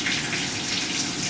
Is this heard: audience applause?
no